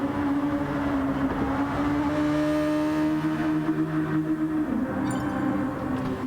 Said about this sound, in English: You can hear that engine going.